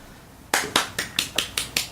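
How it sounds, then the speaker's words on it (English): A quiet golf clap, a single person's light, polite handclaps, about seven of them in a slow, even rhythm, close by with nothing else around them. "Golf clap."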